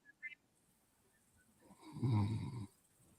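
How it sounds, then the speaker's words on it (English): A single loud, rasping snore swells and fades after a brief quiet stretch, with a faint short sound just before it. "He's snoring"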